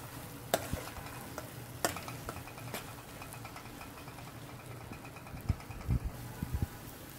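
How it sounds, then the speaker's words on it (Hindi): A spoon stirs chole masala frying in oil in a pan, giving sharp scraping clicks at intervals over a quiet continuous sizzle, with a cluster of quick stirs near the end. "अब इसे हम और हिलाएंगे ताकि इसमें थोड़ा सा ऑयल इसमें भी छूट जाए"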